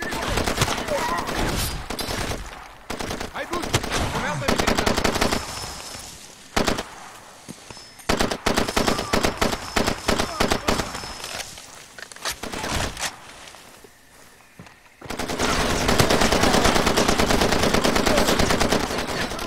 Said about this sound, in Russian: Я не вижу, откуда эти крысы стреляют.